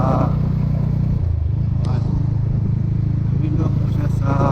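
Motorcycle fitted with an aftermarket exhaust pipe (MBR1) running close by, a loud, steady low engine drone that dips briefly, then holds a throaty rev.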